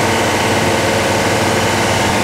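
Truck engine running steadily at about 2400 RPM under load, a loud continuous low rumble with broadband roar and no talking.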